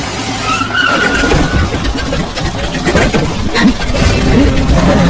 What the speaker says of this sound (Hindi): फिर टायरों के जोर से जमीन पर चिपकने की अजीब सी आवाज आई।